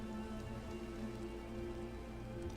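Steady rain falls in the video game Minecraft, a continuous even hiss with soft pattering, constant and unbroken with no voices.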